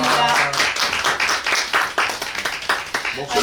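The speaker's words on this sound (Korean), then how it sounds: "우리 이수진 회원님께 한 번 더 박수 부탁드립니다" A small audience at a lecture gathering gives an encore round of applause, close, uneven hand clapping with a voice talking over part of it.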